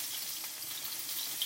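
Garlic and cherry tomatoes fry in a pan, giving a soft, continuous hissing sizzle with faint pops, close and steady, with no talking.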